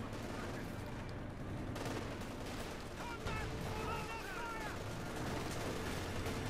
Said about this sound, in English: Pretty suppressed here by the MG34, which he was quick to through there.